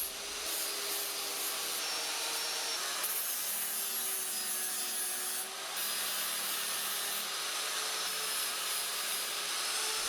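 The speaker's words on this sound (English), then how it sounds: "I'm going to grind the welds flat and move on to the next step. I used an angle grinder with a flap disc" An angle grinder with a flap disc grinds steel welds flat, a steady high abrasive hiss with a constant motor whine. It drops out for a moment and then resumes.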